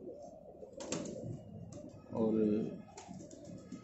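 A domestic house pigeon in a loft in Lahore coos nearby, a short throaty rolling burst in the middle, surrounded by quiet chirps and background noise while someone speaks softly.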